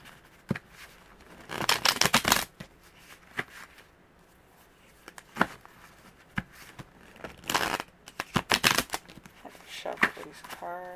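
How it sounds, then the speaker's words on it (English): Tarot cards being shuffled by hand, with repeated bursts of riffling and flapping across several seconds, close and fairly loud, with short pauses and light handling noises between. "Shuffle these cards."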